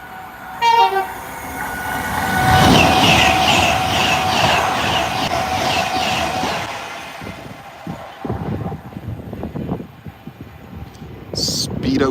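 Avanti passenger train passing at Acton Bridge, a two-tone horn sounding before the loud rush and rhythmic clatter of carriages going by close, fading as it recedes, with people talking faintly nearby.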